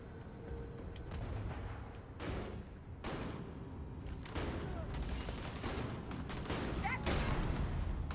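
Shotgun blasts in Starfield boom in a series of sharp, separated shots over a low, steady backdrop of game ambience, quiet overall and irregularly spaced across several seconds.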